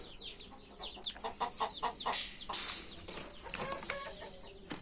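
Chickens cluck in a coop on a farm where a hen has recently hatched chicks, with several birds making overlapping short clucks and calls at moderate distance, fairly busy and steady throughout.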